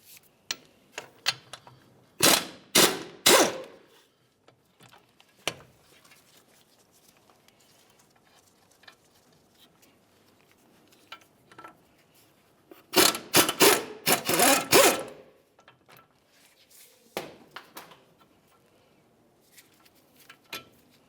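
Ratchet and tools working the 21mm brake caliper bolts on a 2005-2010 Dodge Dakota front end, with two bursts of rapid clicking ratcheting and scattered lighter taps and clinks between them, fairly close and with no talk.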